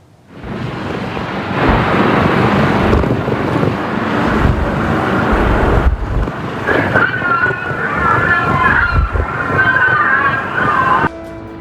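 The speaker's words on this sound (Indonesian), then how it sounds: "Fenomena angin lodos yang bertiup kencang memicu badai dahsyat" A strong lodos wind storm batters Istanbul, with loud, continuous gusty wind roar and buffeting across the whole stretch, and a person talking over the noise.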